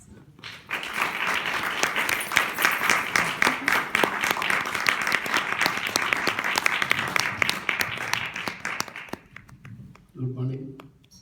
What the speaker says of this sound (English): let us celebrate you with applause